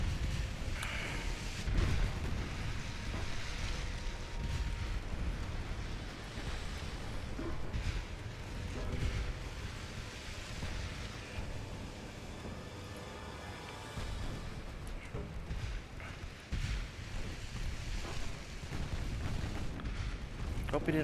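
Naval guns fire in Ultimate Admiral Dreadnoughts with deep, rumbling booms repeating irregularly over a continuous low roar of battle, while a voice talks intermittently over the action.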